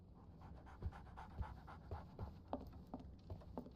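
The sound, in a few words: dog panting, from Sherlock Holmes The Awakened video game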